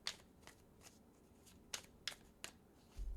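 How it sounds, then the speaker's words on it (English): A tarot deck being shuffled, heard as a few faint, sharp riffling bursts and card flicks spaced irregularly over quiet room tone. "Let me shuffle the deck."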